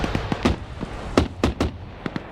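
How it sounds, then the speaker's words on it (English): An auto cannon fires in a PvP video game match, a string of sharp, punchy bursts in irregular clusters, some closely doubled, loud and near with no talking over them. "Now you got the auto cannon. I think it's shooting up at the Blue 4 command"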